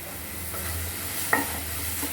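Fresh curry leaves dropped into hot frying oil for bhindi fry give a soft, steady sizzle with one brief sharp crackle partway through, close and without talk.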